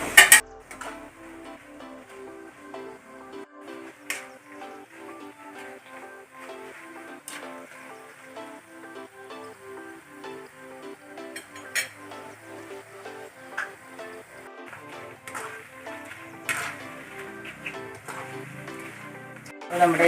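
Wheat-flour sweet pakkavada diamond cuts are stirred as they fry in coconut oil, with a soft continuous bubbling and occasional light clinks of a utensil against the pan.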